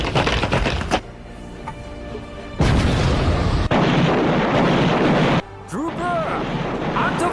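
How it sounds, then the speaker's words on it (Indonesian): Loud booming blasts of Makassar cannon fire rumble in bursts during a battle against Dutch troops, with crashing impacts and shouting voices mixed through the battle din. "Gunakan meriam anak Makassar. Buat mereka hancur berkeping-keping."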